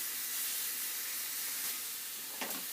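A steady, broadband sizzle of bread and pastrami frying in a pan for a Cuban sandwich, constant and close, with a brief clink near the end.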